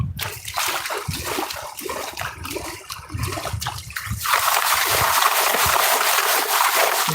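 Water rinsing dirt down from a bucket while prospecting for gold in a creek, loud splashing and sloshing with irregular pours that turns into a steady heavy rush of running water, close by, no talk.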